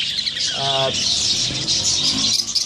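A female budgerigar gives a short chirp up close, a bright quick call standing out over a steady high hiss of background bird chatter in an aviary.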